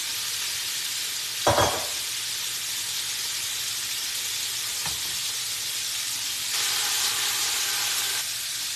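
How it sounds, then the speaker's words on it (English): Neck bones sizzling in a pot, a steady faint frying hiss throughout, broken by a brief stirring clatter near the start and a slight swell of sizzle toward the end. "You hear that sizzle?"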